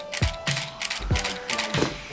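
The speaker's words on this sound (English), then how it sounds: "this is the Canon 5D Mark IV in its silent shooting mode." Canon 5D Mark IV camera shutter fired in silent shooting mode, four separate muffled mechanical clicks with a soft whirring return, heard close and alone at a roughly half-second spacing.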